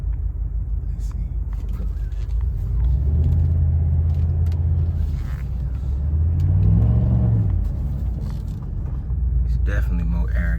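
Chevrolet Impala SS V8 fitted with a K&N cold air intake, a deep rumbling idle that swells into two throaty revs and settles back, heard close up with no talking.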